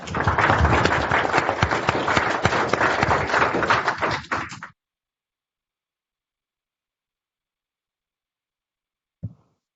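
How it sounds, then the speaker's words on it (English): Applause from participants at an online astronomy talk on difference image analysis: dense, steady clapping for about four and a half seconds, then an abrupt cut to silence, with one brief tap near the end. "Applause, and we'll go on to"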